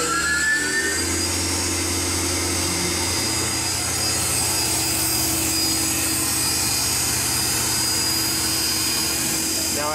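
A CNC machine recuts a Viking head inlay pattern into a knife one thou deeper with a 1/16 tool, giving a loud, steady high-pitched machining whine with a constant low motor hum throughout, no talk.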